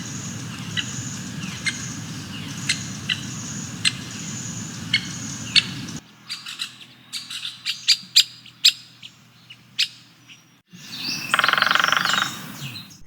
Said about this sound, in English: It was the call and drumming of the Stripe-Breasted Woodpecker